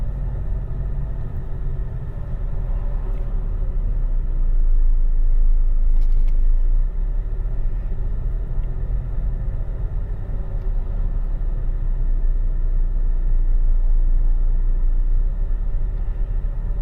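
A car driving through Bradford on Avon, Wiltshire, on a hot day with the air conditioning running, gives a steady, close, loud road rumble and engine hum throughout, with no speech.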